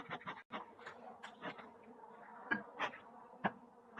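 Honey bees buzz steadily at an opened hive, a spring colony with egg-laying under way, agitated and short on food stores, close up with a few sharp knocks and bumps against the hive.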